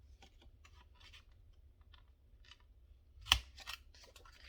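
A corner rounder cutter punches through the edge of a thick card for a single sharp snip, near and fairly loud, with faint rustling and handling around it.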